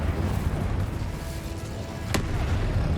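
An Incendio fire spell is cast in the video game Hogwarts Legacy, a steady roaring whoosh of flame with a sharp crackling burst partway through, loud and continuous.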